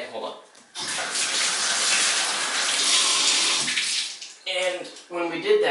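Hot water runs from a sink faucet in a loud, steady, close rush for several seconds, then stops, and a voice speaks briefly at the end.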